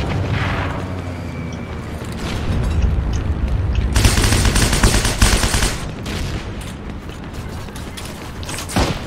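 Gunfire in the video game Heroes & Generals, a dense burst of loud shots and booming impacts that peaks midway, with mechanical clatter around it and no talk.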